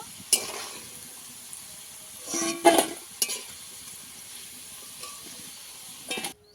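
Fried potatoes are handled in a pan, with a faint low sizzle under scattered clinks and scraping bursts of utensils against the cookware, louder around the middle and near the end.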